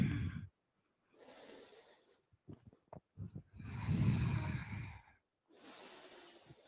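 Deep audible breaths during a vinyasa power yoga practice, a series of long inhales and exhales with short pauses and small clicks between them, close and fairly soft.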